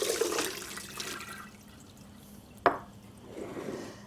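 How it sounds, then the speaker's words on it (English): Water poured off cooked green vegetables into a drain, a steady rushing wash with one sharp clatter midway, close and alone. "Drain the green vegetables."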